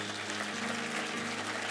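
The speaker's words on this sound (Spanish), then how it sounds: "Alguien dele un aplauso a Dios." A church congregation applauds during a sermon, a brief burst of moderate clapping from many hands with a faint steady hum underneath, no voices over it.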